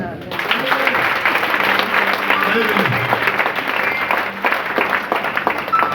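A church congregation applauds in sustained, dense clapping that carries on for the whole stretch, with voices calling out over it.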